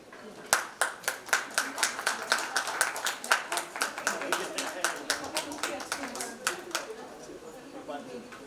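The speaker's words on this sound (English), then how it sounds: "Continue to give those round of applause, ladies and gentlemen." A crowd claps steadily in applause, dense overlapping hand claps at close range, holding for several seconds before thinning out toward the end.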